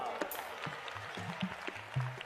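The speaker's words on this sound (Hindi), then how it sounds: "जो सेवादार सेवा किए एक बार उनके लिए ताली बजाओ।" An audience at a religious gathering clapping for the volunteers who served, scattered, fairly faint applause mixed with low voices and other room noise.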